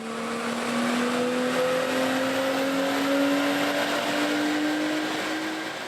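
A car engine runs on a dyno with no air filter fitted, a loud, steady drone whose pitch climbs smoothly as revs rise through the whole pull.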